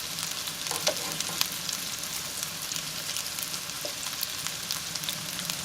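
Meatballs for Mexican spaghetti sear in a pan with a constant soft sizzle and scattered crackling pops, fairly quiet and close, with no talking.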